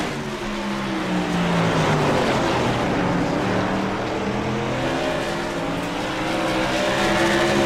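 Race cars lap New Smyrna in a racing video game, a loud continuous engine roar with shifting pitch as cars pass and overlap, dense and unbroken throughout.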